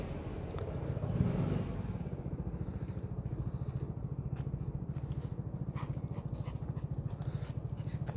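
A dog panting rapidly and rhythmically while out on a walk outdoors, close and steady, with soft background outdoor noise and a brief louder swell early on.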